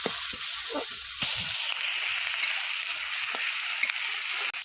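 Onions with chili powder fry in hot oil while being stirred for a mild-spiced yam and potato curry, giving a steady close sizzle throughout with soft scraping strokes and occasional clinks, no voices.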